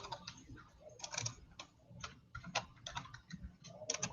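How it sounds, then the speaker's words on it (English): Typing on a computer keyboard: irregular clusters of quiet, close key clicks with short pauses, soft and sparse, with no talking. "Boy, I'm having trouble typing."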